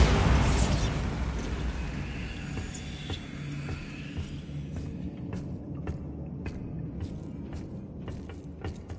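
A Bombarda blasting spell goes off in a Hogwarts video game. It lands as one loud, close explosive burst at the start, then trails into a rumbling decay with scattered small pops.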